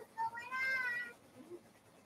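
A cat meows with a rising, drawn-out call near the microphone, standing out over quiet room noise and followed by a fainter second sound.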